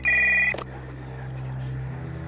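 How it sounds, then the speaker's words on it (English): Phone ring in the video game The House Abandon, one final bright electronic trill cut off abruptly, leaving a low droning ambient hum with faint rustling. "Behind the door, the phone starts ringing."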